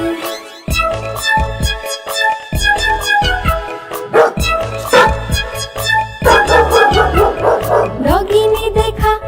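Repeated dog barks and yips, several in a row, set into a Hindi children's nursery rhyme and heard loudly over bright musical accompaniment.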